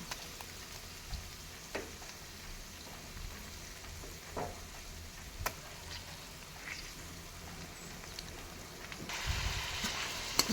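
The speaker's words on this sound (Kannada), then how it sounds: "ಪುದೀನದು ಹಸಿ ವಾಸನೆ ಹೋಗೋವರೆಗೂ ಸ್ವಲ್ಪ ಫ್ರೈ ಮಾಡಬೇಕಿದು" Mint paste frying in a pan for mint rice, a soft continuous sizzle with occasional clicks and scrapes, growing louder near the end.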